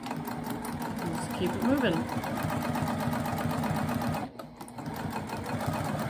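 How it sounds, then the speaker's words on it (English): A sewing machine runs steadily, stitching stay stitches across the top seam of a bag, with a dense continuous mechanical whir and a brief pause near the end. Someone talks over it. "I always like to add a couple stay stitches here across the top seam."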